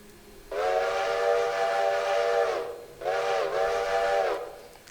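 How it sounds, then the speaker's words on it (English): Two loud blasts from a steam locomotive whistle in the Railroader train game, a long chord-like tone of about two seconds followed by a shorter one, with a steady hiss, close and without voices. "you got your whistle here, if I can actually grab the end of the stick"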